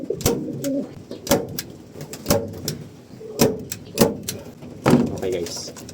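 Pigeons in a coop coo in soft, repeated phrases amid fluttering and sharp knocks and rattles from the cage, with a voice speaking nearby.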